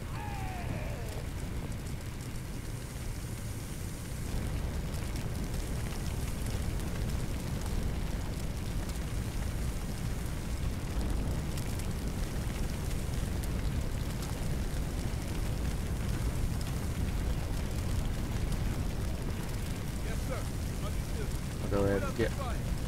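Fire fought with a water hose in the Firefighting Simulator video game: a steady, dense roar of spraying water and flames fills the scene at constant loudness, with a brief sharper burst near the end.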